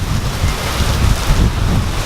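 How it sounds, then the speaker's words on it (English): A sudden monsoon downpour in Vietnam, heavy rain roaring as a steady broadband wash with gusty low rumble, loud and continuous throughout with no talking. "it just within seconds, just monsoonal, just rain"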